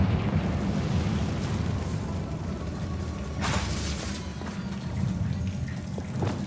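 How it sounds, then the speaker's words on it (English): A Confringo blasting spell in Hogwarts Legacy goes off as a dull rumbling burst with scattered debris crackle over a low steady drone, one brighter blast flaring midway. "Confringo!"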